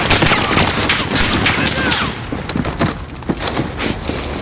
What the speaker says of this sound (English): Got a machine gun on that second deck.